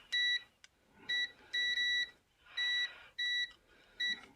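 A multimeter on continuity mode beeps as its probes touch ground points on an electronic circuit board, giving about seven clear, high-pitched tones of uneven length with short gaps between them.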